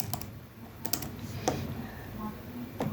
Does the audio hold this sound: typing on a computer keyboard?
yes